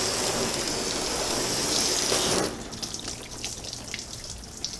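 A shower-setting spray nozzle hisses steadily as water hits waxed black car paint, then cuts off abruptly partway through, leaving light patters and drips.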